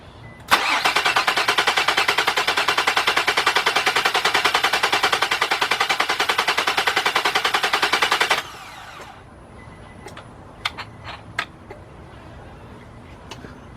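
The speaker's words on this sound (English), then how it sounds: "Let's crank this over, get some oil pressure up, and also it gives me a chance to hear how the engine sounds." The 3.5 engine of a 2003 Nissan Maxima GLE, partly rebuilt, cranks over on the starter without firing: a loud, fast, even chugging that runs for about eight seconds, stops abruptly, then gives way to a few faint clicks and clunks.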